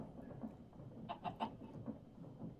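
Chickens clucking in the Minecraft modpack FTB Skies, a few soft close clucks and short bursts, faint and alone with no talking.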